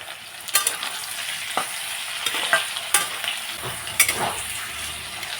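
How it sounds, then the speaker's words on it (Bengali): Tomatoes fry with onions and green chillies in a pan, a loud close sizzle broken by several sharp stirring scrapes and clacks of a utensil. No voices are heard. "টমেটোগুলোকেও আমি 2 মিনিটের মতো ভেজে নিচ্ছি।"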